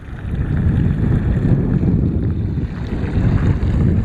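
Steady wind gusting across the microphone at desert hot springs on a chilly, windy day, a continuous low rumbling roar with no voices.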